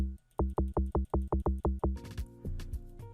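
An Amapiano log drum sample plays on its own: a run of about ten punchy, booming low drum hits in steady rhythm, followed by a quicker, busier rolling pattern with brighter upper overtones.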